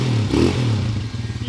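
A 200cc converted motorcycle engine idles steadily nearby with a low, even throb and a brief mechanical clatter, running alone without voices.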